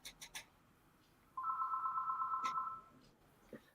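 A house phone rings with one steady electronic trill lasting over a second, fairly clear against a quiet room, with a few faint clicks and taps before and after.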